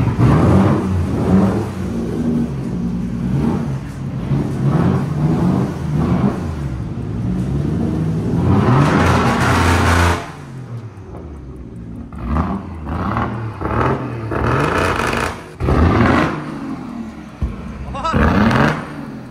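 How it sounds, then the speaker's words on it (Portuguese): A modified 1985 BMW E30 with a Toyota 1JZ engine revs hard in repeated loud bursts, roaring up and dropping back, with voices talking in between the revs. "Vamos escutar o barulho de um JZ"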